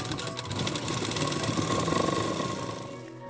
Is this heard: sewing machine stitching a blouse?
yes